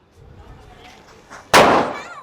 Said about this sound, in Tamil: சூப்பருங்க, எல்லாமே சூப்பராக வெடிக்குது.